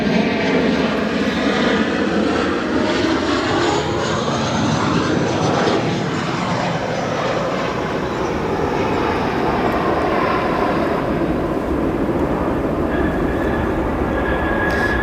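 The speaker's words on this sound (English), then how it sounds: "That there, your American Airlines 737 arriving from Washington after a 1 hour and 30-minute flight time" An American Airlines Boeing 737 arrives at O'Hare from Washington with a loud, broad jet roar that sweeps in pitch as it passes overhead. The roar then eases into a steadier rumble with a thin engine whine.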